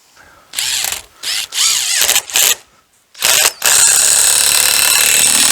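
A power driver drives screws into a rustic log bench in several short whirring bursts separated by pauses, then one longer steady run, close and loud.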